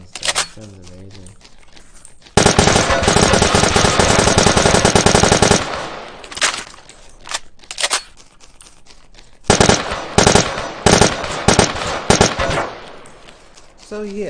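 Assault rifle fire in the CrossWar shooter game erupts in long, loud sustained bursts separated by scattered single shots and quieter gaps, with some faint game sounds between.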